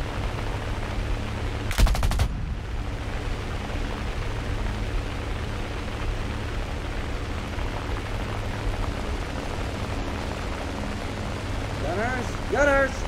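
Aircraft gunners firing machine guns in a combat flight game, heard as a steady, continuous rattle of automatic fire under a constant engine-like roar, with a sharp loud crack near the start and a voice near the end.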